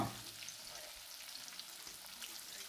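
Small pieces of tinda (ivy gourd) frying in coconut oil give a steady, even sizzle that carries on without a break.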